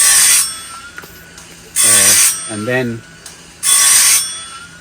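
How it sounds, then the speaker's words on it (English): A saw blade sharpener runs in three loud bursts of bright, hissing grinding, each about a second long, with short mechanical clicks and faint ratcheting in the pauses between. "So I sharpen the blades first"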